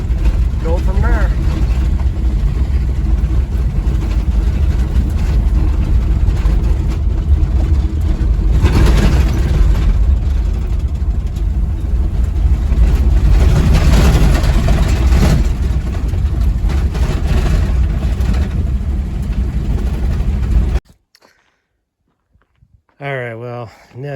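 An International Scout II, parked for 20 years and just cold-started, runs with a loud, steady engine rumble close by for about twenty seconds before it cuts off abruptly, followed by brief faint noises.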